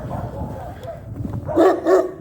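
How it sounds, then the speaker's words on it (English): A big dog in a snowy Russian village lets out two loud, deep barks close by in quick succession near the end, after a quieter stretch of low rumble. "oh, big dog."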